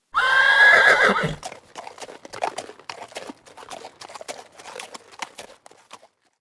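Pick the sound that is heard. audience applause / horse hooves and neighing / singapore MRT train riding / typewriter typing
horse hooves and neighing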